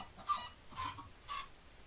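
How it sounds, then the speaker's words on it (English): Minecraft chicken clucking in the video game, three soft, evenly spaced clucks at a moderate distance, faint and alone. "Why did that chicken die?"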